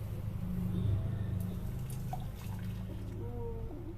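Khus khus kheer mixture pours back into a pot with a continuous liquid trickle and soft splashing, close and steady under a low background hum, with a few faint clinks.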